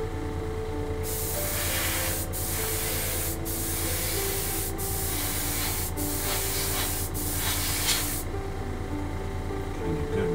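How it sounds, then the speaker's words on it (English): Steady hiss of a spray can putting a wet coat of paint on a model MPC Trans Am body, in close, continuous bursts broken by a few short pauses. "I'm spraying it a little wetter."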